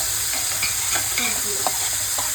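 Onions sizzle and fry in a pan with steady stirring scrapes running through a constant hiss, close and unbroken, with no voices.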